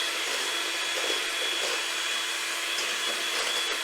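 A Smeg electric stand mixer whips strawberry sponge cake batter for a keto recipe, giving a steady, even, fairly loud motor whir that runs unbroken with no talk over it.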